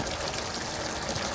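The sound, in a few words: water from a hose filling a barrel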